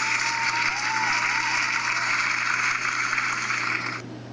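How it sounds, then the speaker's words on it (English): An applause sound effect plays from a noise machine app on an iPod touch, a steady crowd-clapping loop with a constant hum beneath it that cuts off sharply near the end. "Applause should come up."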